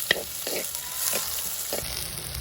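Onions and fennel seeds frying in a pan give a steady, moderate sizzle, broken by a few soft stirring scrapes at roughly half-second intervals.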